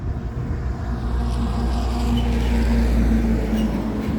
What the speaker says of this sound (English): Here comes the logging truck from the other way.